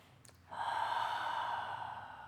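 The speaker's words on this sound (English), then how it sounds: "And then we'll take one more deep breath here wherever you are." A single deep breath during a beginner yoga class, a quiet short intake followed by a long, steady, airy exhale close to the microphone.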